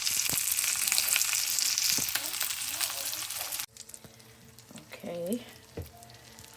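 Steak and cheese fry loudly on a hot pan with the cheese melting, a dense close sizzle that suddenly drops to a quieter crackle, with a few clanks and a brief spoken word.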